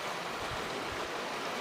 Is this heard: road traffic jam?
no